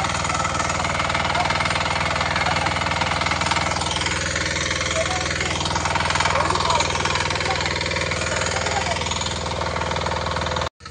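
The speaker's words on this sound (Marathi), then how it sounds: "ट्रॅक्टरमधून मगाशी आवाज येत होता" A tractor engine runs steadily at rice-planting time in rainy Kokan, a dense, constant knocking drone lasting throughout before cutting off at the end.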